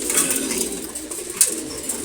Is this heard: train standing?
no